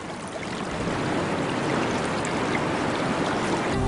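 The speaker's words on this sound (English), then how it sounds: "Rainwater, which collects in deep pools, is channeled along furrows in the rock surface" Rainwater runs along furrows in the rock surface of a Venezuelan tepui plateau, a dense, steady rushing wash with no pauses.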